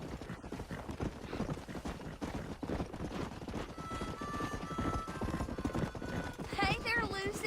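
Horse hooves clip-clop steadily through a Red Dead Redemption scene, running under constant character dialogue and background game music, with a horse whinny near the end.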